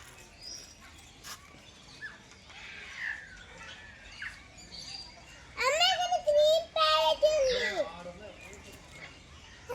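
A parrot at the Tirupati zoo lets out a run of loud, harsh squawks and chattering calls in a burst near the end, with someone talking beforehand.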